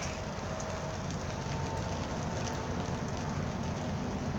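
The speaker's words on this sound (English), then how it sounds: "And it's raining, gonna be raining for like 3 days." Rain falls steadily on tarps over a desert camp during a multi-day downpour, making a dense, even patter and hiss from start to finish, with no voice.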